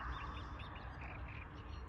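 Birds calling outdoors, a few faint squawks and chirps over a steady low background hum.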